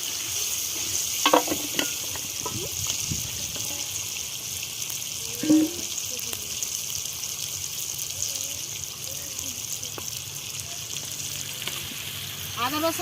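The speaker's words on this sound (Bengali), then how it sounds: "আমরা মাংস ঢেলে দিচ্ছি।" Chicken pieces tipped into a pan of hot oil for a burnt-spice chicken dish fry with a continuous, fairly soft sizzling hiss and a few brief stirring knocks.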